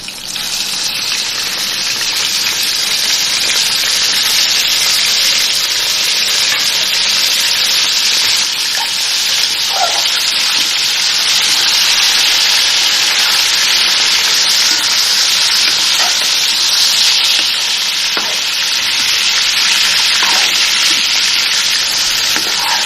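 Chicken frying in a pot for chicken pulao: a loud, steady, watery sizzle and hiss that runs unbroken for over twenty seconds, with occasional faint clicks and no talking.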